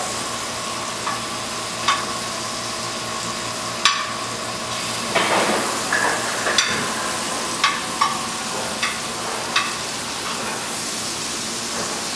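Scallops sizzle in a hot pan after being flipped, a steady broadband frying hiss with several sharp pops and spits scattered throughout, close and continuous with no talking.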